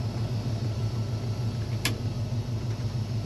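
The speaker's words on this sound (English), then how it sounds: "Great sounding truck. Starts up and runs nicely and easily right away." A 1972 Chevrolet C10 pickup truck engine runs at a steady, rumbling idle close by, with a brief high click partway through.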